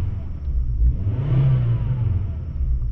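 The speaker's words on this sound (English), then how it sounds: "I love a good 5-cylinder engine." 1996 Volvo 850R five-cylinder engine revving while being driven, a low, rumbling drone that swells briefly in the middle, heard from inside the car over steady road noise.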